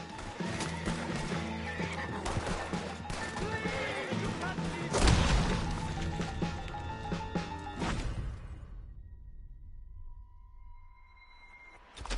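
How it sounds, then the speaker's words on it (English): Horses whinny and snort amid clattering hooves and chaotic game-like effects, with a loud burst midway before the noise drops to near quiet. "Horses are over there."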